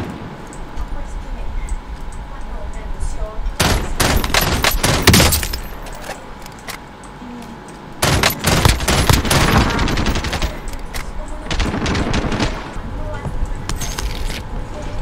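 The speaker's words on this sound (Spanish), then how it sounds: "¡Están disparando!" Gunfire in Call of Duty Warzone comes in several loud, close bursts of rapid automatic shots, separated by quieter stretches of background game noise.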